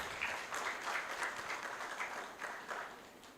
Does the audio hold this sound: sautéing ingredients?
no